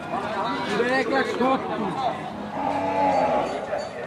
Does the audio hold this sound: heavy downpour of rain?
no